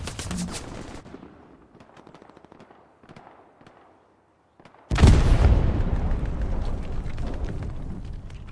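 A rocket fired and exploding in a multiplayer video game battle around a church, a sudden loud blast with a long rumbling tail that follows scattered gunfire and quieter shots.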